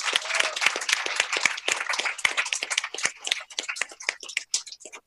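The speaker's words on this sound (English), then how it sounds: "I'd like to everyone give yourself a round of applause." Round of applause from an audience at a coding bootcamp demo day, with irregular, fairly sparse individual claps over about five seconds, moderately loud and close, gradually thinning toward the end.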